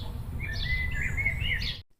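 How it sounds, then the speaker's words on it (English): Birds sing outdoors in a brief, faint burst of high chirping and warbling phrases above a low background rumble, ending abruptly. "listening to the birds singing"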